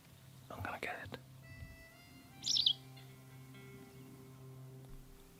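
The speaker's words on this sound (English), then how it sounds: "Wow, that's a bird." Out in a drained swamp in Sweden, a bird gives a short, high chirping call amid quiet surroundings, while a person whispers softly just before it and faint tonal background hum lingers.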